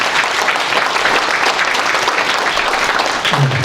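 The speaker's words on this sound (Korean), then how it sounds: "박수로 환영해 주시면 고맙겠습니다" Audience at a Korean forum applauding to welcome two senior advisers, steady dense clapping filling the room at a constant loud level for several seconds.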